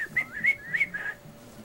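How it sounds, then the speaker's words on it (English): Whistling in the game Assassin's Creed 4 Freedom Cry, a clear close series of short rising and falling whistled notes in a quick run, then trailing off, with no talk over it. "they do like a whistle, don't they?"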